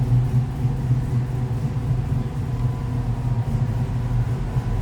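A steady low rumble from the LS3 engine of a 1957 Chevrolet Bel Air restomod idles continuously at close range, even and unbroken, with no voices over it.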